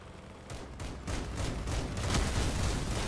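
Rapid vehicle-mounted weapon fire in the combat game Crossout, a dense continuous barrage of overlapping shots and bursts with rising intensity, close and loud throughout.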